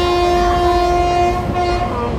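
A passenger train rolls along the rails on the way to Mannargudi, a loud steady rumble with a sustained tonal hum throughout and no talking.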